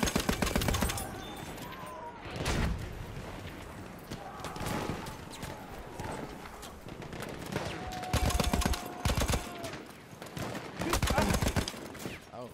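Bursts of M1917 Browning machine gun fire in a Suez defence battle game, loud rattling volleys in several clusters separated by short lulls, with distant battle noise and faint voices underneath.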